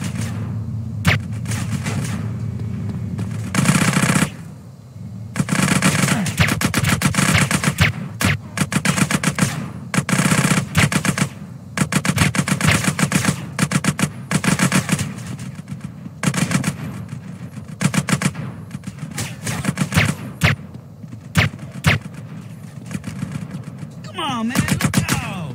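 Gunfire in GTA San Andreas while walking and shooting, dense loud bursts of rapid automatic shots and booms repeating through the whole stretch, with brief pauses and some talking mixed in.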